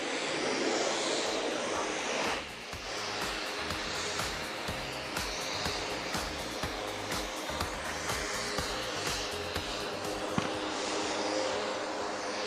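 A military jet at the Aero India 2025 air show at Yelahanka Air Force Station speeds up toward 400 knots ahead of snap rolls, a steady broadband engine roar that stays loud and continuous throughout.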